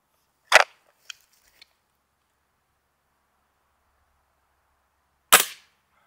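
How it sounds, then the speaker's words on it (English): Two sharp, loud gunshots fired at cheap body armor from about ten feet, about five seconds apart, each with a short crack and quick decay, plus small clicks between them in otherwise silent air. "I mistaken that and shot at 10 foot, but look at that."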